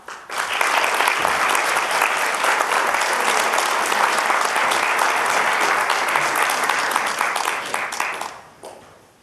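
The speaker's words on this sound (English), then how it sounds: "please give a big round of applause for our Chorn-Pond." Sustained applause from an audience, loud and steady for about eight seconds before quickly fading out.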